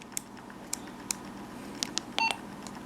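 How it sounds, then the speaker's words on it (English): A Motorola EX560XLS commercial radio sends a short burst of DTMF tones, a brief bright dual-tone beep near the end, preceded by scattered faint clicks over a low steady hum. "you go through them and it would set out DTMF tones"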